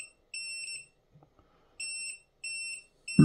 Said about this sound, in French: notre robot va biper